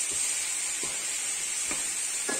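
Apples stew in caramel in a pan under a steady sizzling hiss, while a spoon stirs them with four brief, evenly spaced scraping strokes nearby.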